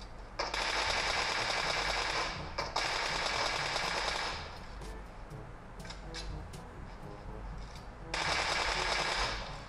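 Rapid automatic gunfire from PUBG Mobile comes in three long, dense, loud bursts, the middle one trailing off into quieter scattered shots and ambient game noise before a final sustained volley.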